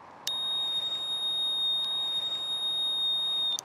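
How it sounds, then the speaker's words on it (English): A steady, piercing electronic buzzer tone sounds continuously at a constant pitch, unchanging throughout, over faint background noise. "So this is a buzzer, and it makes a annoying noise"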